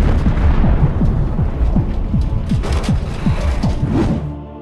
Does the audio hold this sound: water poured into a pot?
no